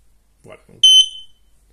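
A short low murmur, then one loud, piercing electronic beep from an interconnected smart smoke detector, sharp and shrill, lasting about a third of a second.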